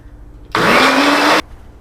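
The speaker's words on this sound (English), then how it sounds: "isn't that a cool little blender?" A small personal blender making mozzarella cheese whirs on abruptly, runs at a loud, steady high-pitched whine for about a second, then cuts off sharply.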